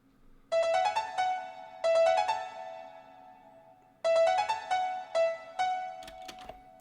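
Piano melody from an FL Studio beat in a futuristic style, played alone as short repeated phrases of bright ringing notes with gaps between them, ending in a few sharp clicks.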